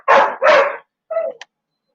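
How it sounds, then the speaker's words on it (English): A dog barks twice in quick succession, close and loud, then lets out a shorter, softer yip after a brief pause. "Sorry about the dog."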